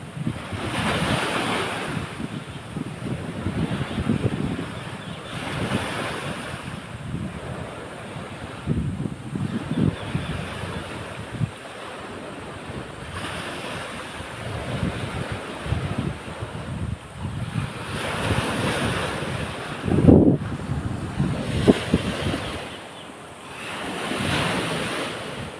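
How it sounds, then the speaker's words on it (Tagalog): Ocean waves rolling onto a shore on a windy morning ahead of a coming storm, surf surging and receding in repeated swells with steady wind noise on the microphone. "Yan ito yung alon nila."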